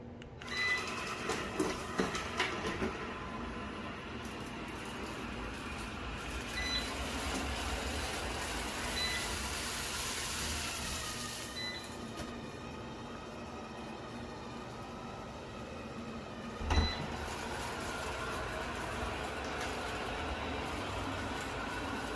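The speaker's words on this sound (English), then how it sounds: "this is probably one of the quietest robot vacuums I've tested" A TCL Sweeva robot vacuum runs across the floor picking up scattered rice, a quiet, steady whirring hum with light rattling and clicking and one brief louder knock near the end.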